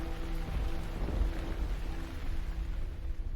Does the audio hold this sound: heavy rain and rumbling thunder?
yes